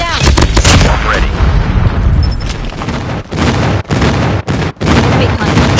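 Heavy gunfire and booming airstrike explosions in Call of Duty Mobile, dense and loud throughout, with sharp dropouts and repeated blasts in the latter half.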